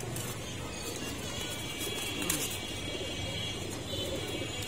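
Pigeons coo softly in a loft, low murmuring calls blending into a steady background hum with a faint clatter near the middle, no voices heard.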